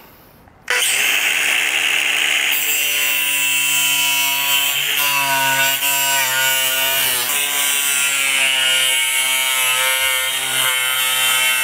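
An angle grinder cuts through the plastic bumper cover of a 2022 Kia Carnival during a trailer hitch install. It starts abruptly and then holds a loud, steady, high whine close by for about eleven seconds, with no talking.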